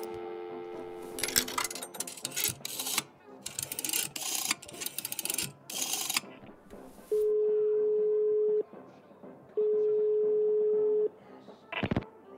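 Telephone in the video game Atomic Heart: after a run of clicky rattling handling sounds, two long steady dial or ringing tones sound clearly, each about a second and a half, separated by a short gap, then a sharp click.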